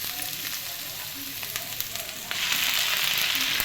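Gongura (sorrel) leaves crackle and sizzle in a hot pan while cooking gongura curry. The frying hiss is steady and close, then swells louder and brighter partway through, with faint stray clinks.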